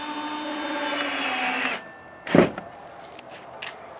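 A power tool runs in a steady whirring burst for nearly two seconds while screws are driven into a wooden shed door during a winter repair, then stops; a brief louder thump and light clicks follow in the quieter space.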